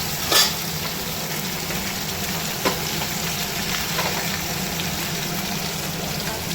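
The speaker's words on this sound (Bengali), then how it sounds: "দেখো আমার সব করা মাছ ভাজা হয়ে গেছে, তুলে নেবো, একটু বেশি কড়া করে গেলাম।" Fish fries in hot oil, giving a loud, steady crackling sizzle up close, with a sharp clatter near the start and another brief knock midway.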